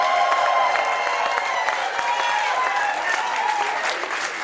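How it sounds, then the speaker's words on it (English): A crowd at a roast applauding steadily, with dense clapping and some cheering mixed in, sustained throughout. "Round of applause, please"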